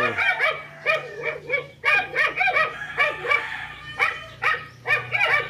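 Several dogs bark and yip in rapid, agitated bursts, close by, with growling and whimpering between the barks, as they attack a cobra in Dagupan City, Pangasinan.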